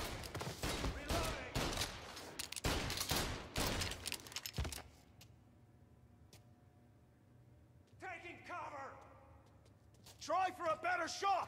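Rapid bursts of close, loud gunfire during a bank robbery in Mafia Definitive Edition, a tight volley lasting several seconds before it stops and voices speak over a quieter background.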